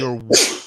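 One person sneezes once, close and loud: a short voiced intake and then a sharp, breathy burst that fades within half a second.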